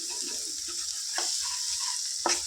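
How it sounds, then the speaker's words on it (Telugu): Eggs frying in a pan over a high gas flame for an egg curry, a steady close sizzle with two sharper scraping stirs of a utensil, no talking. "వీటిని చక్కగా ఫ్రై చేసుకోవాలి గ్యాస్ హైలో ఉంచుకొని"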